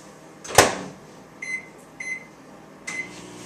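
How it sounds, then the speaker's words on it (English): A microwave oven, melting soap for homemade soap-making, clunks as its door shuts, then gives three short electronic beeps in quick succession. "you put it in the microwave for 45 seconds or until all the soap is melted"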